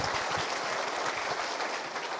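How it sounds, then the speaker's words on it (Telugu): An audience at a political rally claps to welcome a speaker, a dense continuous patter of many hands at moderate loudness, sustained evenly throughout. "గట్టిగా చప్పట్లతో ఒకసారి స్వాగతం సుస్వాగతం"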